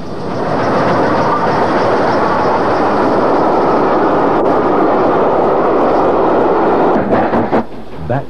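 Steam locomotive Stanway Hall hauling an up passenger train, a loud, steady rumbling roar of the engine and carriages passing close by for the whole stretch, with a few sharper rail clanks near the end.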